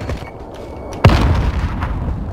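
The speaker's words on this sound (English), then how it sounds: "Friendly precision airstrike inbound." A precision airstrike explosion in Call of Duty Warzone lands as a single sudden loud boom about a second in, followed by a rumbling tail over quieter background game noise.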